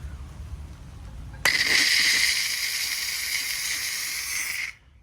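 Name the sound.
McCulloch 1385 steam cleaner releasing steam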